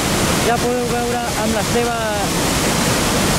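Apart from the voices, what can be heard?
Murchison Falls waterfall in Uganda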